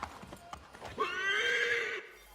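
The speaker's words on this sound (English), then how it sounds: "Well, I reared the horse when I meant to dismount." A horse in Assassin's Creed III rearing up, with a few hoof clops and thuds followed by a loud, drawn-out whinny lasting about a second, close and clear.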